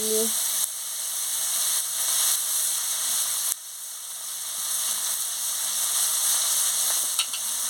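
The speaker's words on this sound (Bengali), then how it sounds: "তেল গরম হয়ে গেছে, আমি পেঁয়াজ কুচিটা দিয়ে দিচ্ছি।" Chopped onions hit hot oil and fry with a loud, dense, even sizzle that holds steady throughout, briefly dipping midway before surging back.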